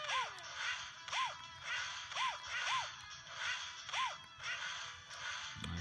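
Punches landing in the Nintendo DS game Mario & Sonic at the Olympic Games, a steady series of sharp whipping hits roughly every half second over game music, with arcing tonal effects between blows.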